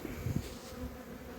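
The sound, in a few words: honey bees buzzing at hive frame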